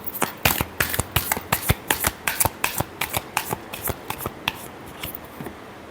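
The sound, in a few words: shuffling tarot cards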